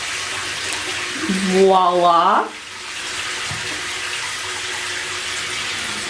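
Tap water runs steadily as feet are washed during a Korean foot treatment, a continuous hiss with a brief sung or hummed vocal over it before the flow softens.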